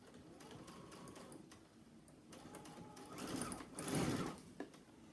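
A sewing machine stitches a craft bag strap slowly over pins, its rapid mechanical whir running in bursts that pause and restart, growing louder toward the end, close by and with no talking.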